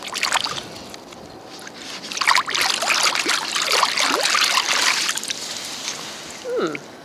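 An object found while mudlarking is rinsed in the River Thames: close water splashing and trickling, with sloshing that builds and stays busy before easing off near the end.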